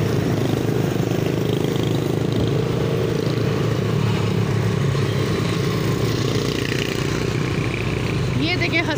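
A motorcycle rides through a busy city street near a food street, its engine droning steadily and loudly throughout, mixed with traffic and street noise.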